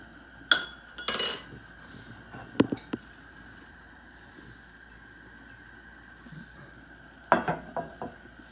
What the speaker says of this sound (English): Let me spoon the rest of these little specks off.